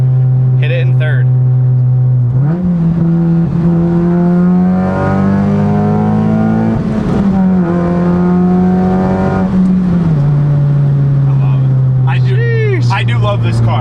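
A loud sports car exhaust, from a protuned Honda Civic Si or 2016 Subaru WRX, drones and climbs in pitch as the engine accelerates, holds a high roar, then eases back down; brief voices at the edges.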